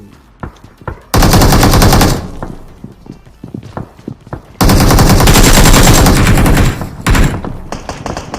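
An AKM assault rifle fires in BGMI PUBG, with two long loud bursts of rapid automatic gunfire and scattered single shots and thuds between and after them.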